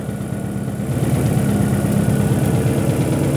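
A car engine with a faulty, broken detonation knock sensor idles close by in a steady, even mechanical drone that grows slightly louder after the first second, with no talking.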